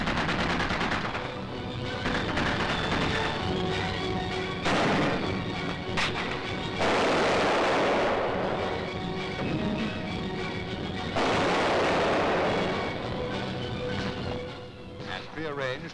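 Distant supporting gunfire and mortar fire in a military commando exercise on a ridge, sustained booms and rolling bursts of artillery-like blasts heard through old, noisy film sound, with a narrator speaking over it.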